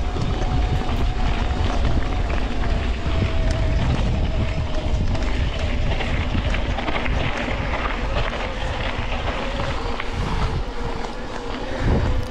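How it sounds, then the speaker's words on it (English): A steady, continuous drone from a Goba 100 Nm electric bike motor running on an Aventon Ramblas, with wind rush and rolling noise mixed in throughout. "Next motor is the Goba 100 Newton meter motor on the Aventon Ramblas"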